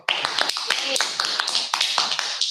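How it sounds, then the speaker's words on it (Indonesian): A webinar audience claps in a steady burst of applause, dense overlapping hand claps running continuously from start to finish. "Tepuk tangan dong."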